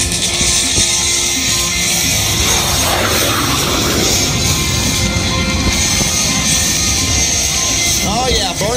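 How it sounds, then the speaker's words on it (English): A jet trainer with wingtip fuel tanks makes a low pass over an air show runway, its engine roaring steadily and loud throughout, with people talking over it. "I think he's going to come in and give you guys one more low pass"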